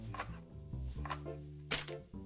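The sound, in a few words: knife chopping scallions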